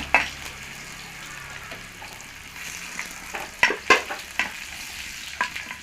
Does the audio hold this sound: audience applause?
no